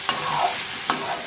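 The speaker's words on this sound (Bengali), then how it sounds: "নাড়িয়ে চাড়িয়ে নেব।" Okra masala with chopped onions stirred in a pan over low heat, a steady soft sizzle broken by two sharp spatula scrapes against the pan, close and alone.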